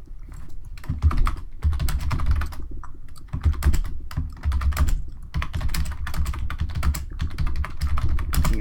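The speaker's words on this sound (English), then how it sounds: "Your typing is much more quiet." Steady, rapid keyboard typing, close and clear, with brief pauses between bursts of keystrokes and no talking.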